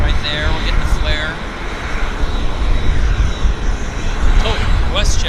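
A Flair Airlines airplane at Vancouver airport gives off a steady, broad engine roar that holds loud and even throughout, with faint voices nearby.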